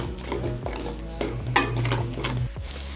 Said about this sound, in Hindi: मसाले को मैंने बारीक चॉप कर लिया था और अब हम इसको इसी में ब्राउन करेंगे।